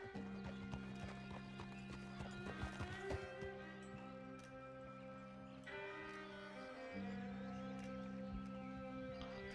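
Horse hooves clip-clop steadily in Red Dead Redemption 2 as the horse moves along a trail, with a brief whinny and soft background game ambience.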